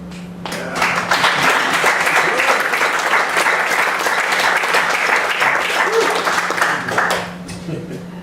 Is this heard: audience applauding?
yes